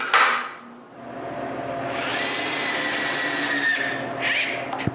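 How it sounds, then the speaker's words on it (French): A power tool drives screws into the wooden center section of a handmade tripod, with a rising whine that settles into a sustained steady run, then a brief pitched squeal near the end, close and fairly loud. "Quand tout est à bonne grosseur, je peux visser la section du centre."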